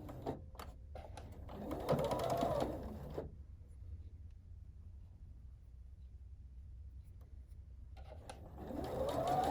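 Sewing machine stitching pieces of fabric together in two short whirring bursts, near and moderately loud, separated by several seconds of quiet room tone.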